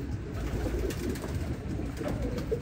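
Pigeons cooing inside a loft, low murmuring coos blending into a steady background rumble, close and continuous.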